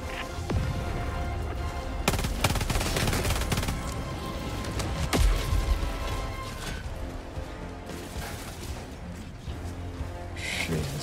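Automatic machine gun fire and crashing impacts fill a Helldivers 2 firefight against Automatons, bursts sounding loud and near, with several sharp cracks standing out from the sustained shooting.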